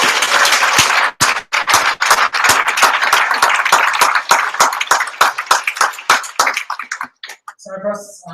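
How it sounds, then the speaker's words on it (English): A room full of hackathon attendees claps loudly for the event's sponsors, a dense burst of applause that thins into scattered claps and stops near the end, where a voice briefly begins. "Big round of applause for our awesome sponsors."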